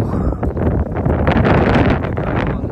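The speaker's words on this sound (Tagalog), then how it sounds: "Ang lamig, tsaka lakas ng hangin." Strong, cold wind blows outdoors, buffeting the microphone in a steady, loud roar with gusts throughout and no voices.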